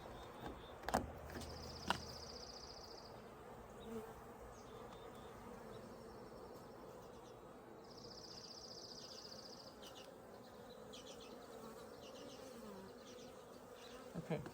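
Honey bees from hives on a deck drone in a constant buzz, with individual bees passing close by, along with a few sharp taps and light handling knocks.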